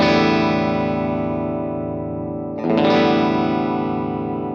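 Open guitar strum heavily coloured by distortion and chorus effects, ringing loud and sustained; about halfway through, the tone abruptly shifts brighter as an effect setting is changed, then rings out again.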